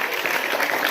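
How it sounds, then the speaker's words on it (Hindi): Audience clapping at a religious gathering, a dense, steady burst of applause close and loud throughout. "ताली बजाओ"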